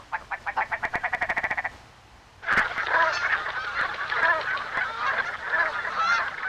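Geese arriving in spring Alaskan wetlands honk in a rapid, regular series of calls, then after a short pause a dense chorus of many overlapping honks carries on, loud and near.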